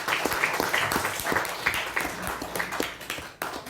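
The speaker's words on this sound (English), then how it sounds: "Let us give a round of applause" Round of applause from a youth leadership programme audience, dense steady clapping at moderate level throughout with a brief dip near the end.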